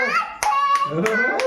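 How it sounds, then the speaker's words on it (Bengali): Four sharp hand claps at a steady beat during a child's third birthday celebration, heard close over a voice singing and talking. "হাততালি দাও"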